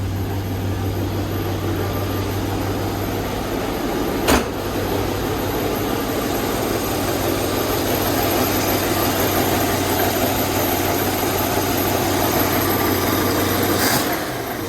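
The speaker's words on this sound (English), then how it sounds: "This is a true cold start" A 1965 Ford Mustang engine idles steadily after a cold start, a continuous low rumble that stays even throughout, with a brief knock near the start and another near the end.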